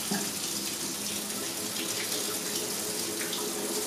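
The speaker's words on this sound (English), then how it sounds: "Let the sprayer warm up." A kitchen sink sprayer runs continuously, a steady broadband hiss of water warming up before a Cavalier King Charles Spaniel puppy's bath, with no talk over it.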